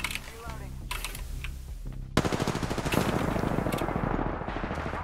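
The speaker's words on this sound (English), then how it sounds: "he's shooting at me" Rapid automatic gunfire from an enemy team in Apex Legends, bursts rattling loud and dense, with a sharper volley kicking in partway and continuing steadily to the end, mixed with game effects.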